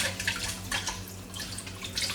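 Water pours into blended beans for Gbegiri, a Nigerian bean soup, making a steady splashing stream with a low hum underneath throughout, close and fairly loud.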